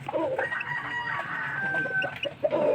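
Chickens in a coop give soft, murmuring clucks and a few sharper calls, close and moderately quiet over a low background hum.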